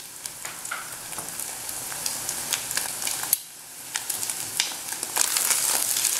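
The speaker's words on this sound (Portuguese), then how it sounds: "deixar ele fritar uns pedaços pra gente sentir pedaços de ovos no nosso arroz" Eggs fry in a pan with sausage and bacon for rice, a dense close sizzle with crackling pops and scraping stirs, briefly dipping then returning louder.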